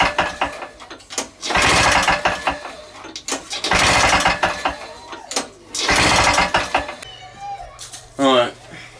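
A 1980s Mountfield AV85S two-stroke lawn mower engine being cranked over repeatedly in bursts, chugging and knocking without catching, with short pauses and brief sounds between attempts.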